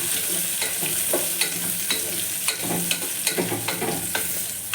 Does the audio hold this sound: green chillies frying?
yes